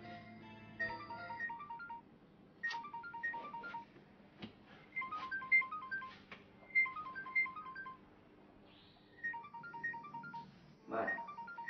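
A telephone ringtone rings late at night: bright melodic electronic tones repeat in short phrases with gaps between them, moderately loud, while a voice can be heard underneath.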